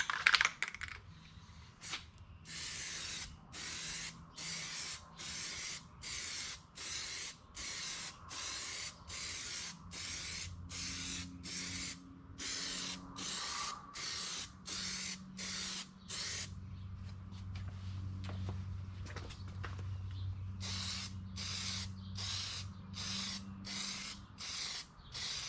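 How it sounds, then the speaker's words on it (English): A Plasti Dip aerosol can held upside down gives a long series of short, sharp hissing spray bursts in steady rhythm, with a brief pause partway through before the bursts resume, loud and close. "When you're done spraying, turn the can upside down, hold down the sprayer"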